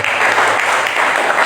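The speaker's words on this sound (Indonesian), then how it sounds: "Beri tepuk tangan bagi Tuhan Yesus." A church congregation at a sermon service breaks into brief, loud, continuous clapping that fills the room.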